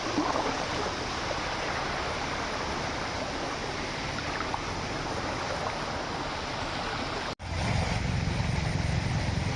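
A shallow river at Kampung Kemensah flows as a steady broadband rush of water, continuous and moderately quiet, with a momentary break near the end.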